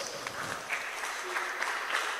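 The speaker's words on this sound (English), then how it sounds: "Please, a round of applause for yourselves." Brief applause from the audience at a national peace forum, a continuous wash of clapping from many people, moderately loud and sustained.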